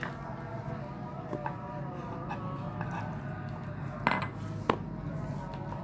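A spoon scrapes and clinks against a bowl while a potato and sausage mixture is stirred with added water, producing soft irregular clatters with a couple of sharper knocks over a steady background hum.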